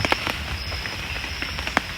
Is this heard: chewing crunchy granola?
no